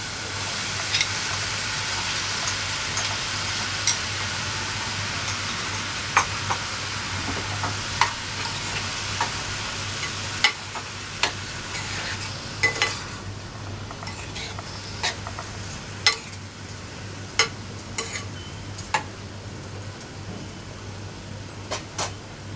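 Chopped tomatoes and softened onion sizzle in a hot pan for a Maharashtrian tomato bhaji. A steady frying hiss runs throughout, with a low hum under it and regular sharp ticks of a spoon stirring. No one speaks.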